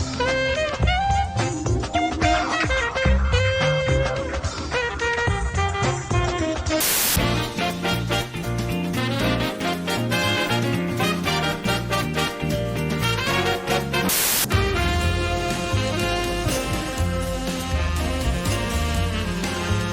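Busy, dense electronic game music with layered synths and a steady driving beat, loud and continuous, with two brief bright bursts partway through.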